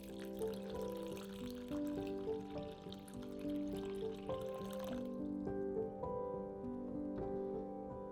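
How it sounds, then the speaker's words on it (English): Water poured over chickpeas in a bowl, a soft, close trickle and splash of liquid running steadily under gentle background music. "Add the chickpeas to a bowl, cover them with water, and let them soak for at least 8 hours."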